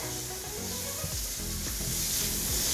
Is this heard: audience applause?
no